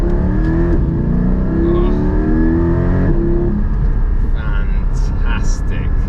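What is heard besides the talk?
Porsche 718 Cayman GT4 with PDK gearbox accelerating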